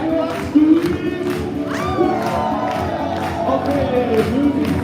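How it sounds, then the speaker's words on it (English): Conference audience in Dubai shouting and cheering together, a sustained dense crowd roar with whoops and voices, with music playing underneath. "everyone scream!"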